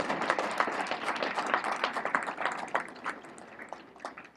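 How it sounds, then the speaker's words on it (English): An audience claps for an honoree at an Army-related gathering, a dense, lively round of applause with crisp individual claps that peaks midway and then thins out toward the end. "Let's give her a round of applause, folks."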